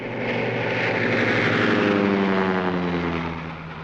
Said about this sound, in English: It's our new plane.